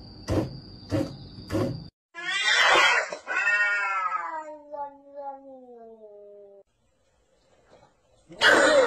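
A cat meows and caterwauls up close: a few short sharp sounds, then a long drawn-out yowl that slowly falls and fades, followed by quiet and a final burst of noise.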